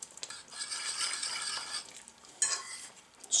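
A peanut-butter-coloured roux stirred in a pot for tomato, dill and basil soup: soft, faint scraping and swishing that runs steadily for a second or two, then a couple of brief metallic clinks.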